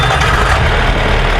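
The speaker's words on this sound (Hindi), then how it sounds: "अब दोस्तों इसको स्टार्ट कर दिया हमने" A Swaraj Mazda truck engine converted to run on CNG runs loud and close just after starting, a brief burst of heavy, steady low-pitched rumble.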